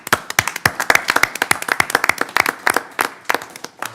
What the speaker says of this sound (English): Please join me in a round of applause for this quarter's epic shining stars.